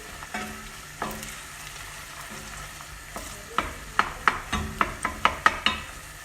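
Tomato paste and pepper paste frying and being stirred in a pan for Turkish dry bean stew, with a soft sizzle and a quick run of sharp spoon scrapes and taps against the pan, no voices.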